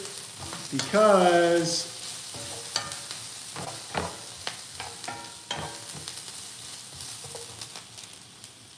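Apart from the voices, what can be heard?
stirring onions frying in a pan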